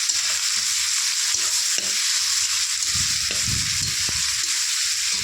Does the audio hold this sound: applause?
no